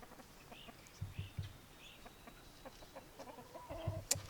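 Farm chickens of mixed colors cluck softly now and then, a few short, faint calls scattered over quiet, low background noise, with a sharper call near the end.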